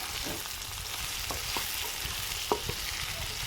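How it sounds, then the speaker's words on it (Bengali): Pumpkin, potato and yardlong beans frying in a pan, a continuous close sizzle broken by scraping stirs, with no talk over it. "বন্ধুরা এখানে ভাজা করছি আমি কুমুর দিয়ে আলু দিয়ে বরবটি দিয়ে ভাজা"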